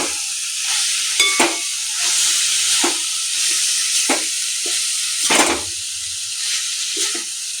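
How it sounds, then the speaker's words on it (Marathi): Chopped dill greens and moong dal stirred in a hot pan, with a steady sizzle and hiss broken by repeated scraping strokes of the spoon, close and with no talk. "सगळीकडे हलवून एकजीव करून घ्यायचं."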